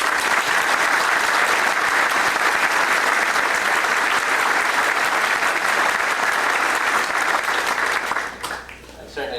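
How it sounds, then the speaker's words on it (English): An audience applauds at an FDNY swearing-in ceremony, steady dense clapping from a large crowd that holds loud for most of the stretch before tapering off near the end. "So he deserves a good round of applause."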